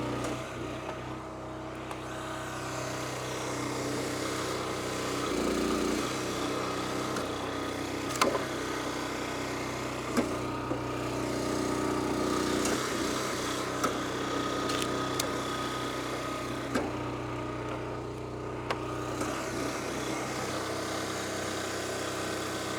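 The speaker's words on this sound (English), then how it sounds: "just because it's called a resplit machine, don't let that fool you about the power of this thing" Small-engine log splitter, an All Wood birch resplit machine with a 4-way wedge, running steadily with a continuous droning hum and occasional sharp knocks or clicks from the machine, close and moderately loud.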